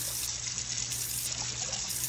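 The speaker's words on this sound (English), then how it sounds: "And then you pour all that rice water off, you see? Pour that off." Starchy water pours off cooked rice in a kitchen, a steady close splashing gush that runs unbroken for a couple of seconds with no voices.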